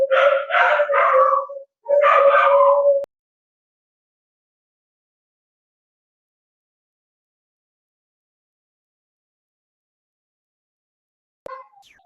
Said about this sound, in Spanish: los perros de mi vecino